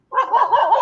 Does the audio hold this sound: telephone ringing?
no